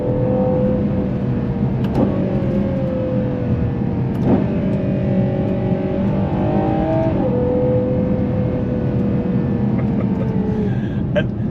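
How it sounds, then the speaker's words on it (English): A Ferrari Purosangue's front-mounted V12 engine drones steadily throughout, with its pitch rising and falling as it revs, loud and close, with no voices over it. "the dominating thing for the whole driving experience is that V12 up front"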